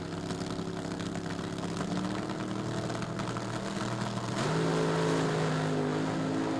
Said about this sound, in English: Smoke coming out of Stomp's car. Obviously the motor with lots of problems